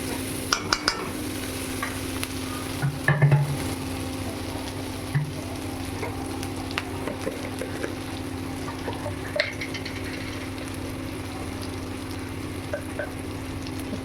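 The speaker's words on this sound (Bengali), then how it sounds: "হলুদ গুঁড়ো, আবারও একটু নাড়াচাড়া করে নেব।" Turmeric and spices for a paneer curry are stirred in a pan: a steady low sizzle runs throughout, with faint scrapes and a few soft knocks of the spoon.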